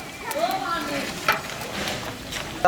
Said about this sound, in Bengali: এবার আমি নাড়িয়ে দিই সব